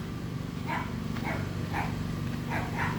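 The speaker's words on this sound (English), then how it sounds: "Dogs are barking" Several dogs bark in short repeated bursts after a bath, about five barks spread over a few seconds at moderate distance over a steady low hum.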